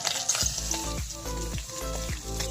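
Small puti fish frying in oil in a wok at an outdoor Bangladeshi village kitchen, a steady loud sizzle with repeated stirring scrapes, no voices.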